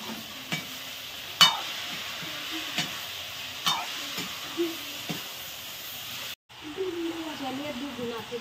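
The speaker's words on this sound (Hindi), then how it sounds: "चलिए अब गोभी को डाल देते हैं।" Cauliflower tipped into a pan of frying onions in a village kitchen, with a steady sizzling hiss and periodic spoon scrapes and taps as it is stirred, fairly close; a short gap near the end before the sizzle resumes.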